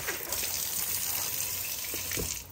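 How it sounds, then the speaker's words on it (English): Mustard greens being rinsed under running water for fermenting, a steady broadband rush of flowing water with a few faint knocks and splashes near the end, close by and without speech. "go in, rinse it a little bit."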